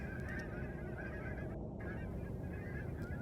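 Cranes call in a field: a chorus of loud, bugling honks repeating continuously over steady outdoor wind noise, with several birds overlapping at moderate distance.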